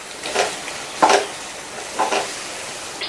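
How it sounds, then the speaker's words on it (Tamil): Potato masala stuffing with lemon is stirred in a pan: three distinct scraping strokes about a second apart over a soft background sizzle. "மறுபடியும் நல்லா ஒரு தடவை மிக்ஸ் பண்ணி விட்டுட்டு ஸ்டவ் ஆஃப் பண்ணிடலாம்."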